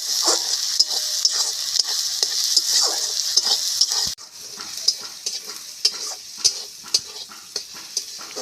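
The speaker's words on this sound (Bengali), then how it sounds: "এবার ভালো করে আমি কষিয়ে নিই" Masala with dried red chilies being sautéed in a pan, a bright continuous sizzle broken by regular sharp spatula taps and scrapes, close and loud, with no talking.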